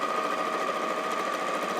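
A 560 sewing machine running steadily while quilting a block, a continuous even whirring hum with a faint mechanical tone, close and alone, no voices.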